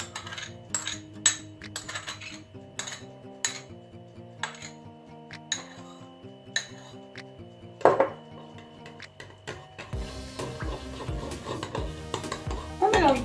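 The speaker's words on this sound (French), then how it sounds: "On mélange bien et si c'est trop épais, on rajoute de l'eau" Vegan barbecue sauce and vegan ketchup being mixed in a bowl, with repeated close clinks and scrapes of a utensil against the dish over steady background music.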